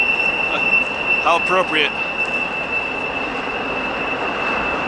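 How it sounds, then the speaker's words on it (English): A train passes through the Narrows, a steep mountain gap beside a modern highway, with a steady close rumble and a high metallic wheel squeal throughout, while a voice speaks briefly. "And we have a train coming through."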